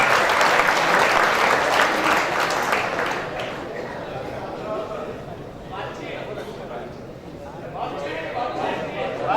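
Loud audience applause fills a mushaira poetry gathering in Mumbai, dense clapping that swells at the start and then thins to a steadier patter, with voices mixed into the crowd noise.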